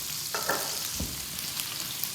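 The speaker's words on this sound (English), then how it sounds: "Meatball sizzling in the garlic" Meatballs fry in oil and garlic in a pan, crackling and sizzling steadily, with a brief scrape or stir partway through, close and moderately loud.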